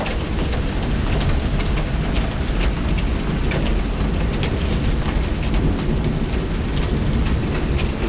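Heavy rain pours down hard during a hail storm in Winnipeg, Canada, a dense, loud, unbroken roar of water drumming on surfaces close by, steady for the whole stretch with no talking.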